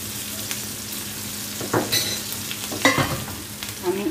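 Ginger paste frying with chopped onions and shrimp in a pan, a continuous sizzle with occasional stirring scrapes and a couple of sharper clinks, no voices.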